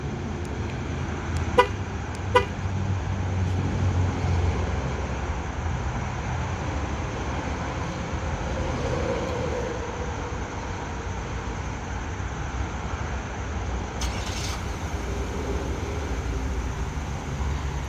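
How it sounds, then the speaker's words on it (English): A 2019 Chevy Equinox answers its remote start with two short horn toots, then its engine catches and settles into a steady low idle that runs on, heard from outside the car. "Car starts up, runs for about 15 minutes, and then shuts itself off."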